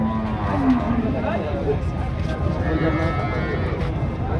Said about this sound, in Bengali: গাভীটা দেখেন কিন্তু অনেক সুন্দর গাভী